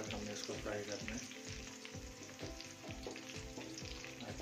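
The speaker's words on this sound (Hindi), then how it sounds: "इस टाइम पे हमने लहसुन अदरक को करीबन 40 से 50 सेकंड एक मिनट तक हमने इसको फ्राई करना है" Garlic and ginger frying in a pan for aloo mongray, a loud continuous sizzle with rhythmic scraping of a spoon stirring through it, close and steady.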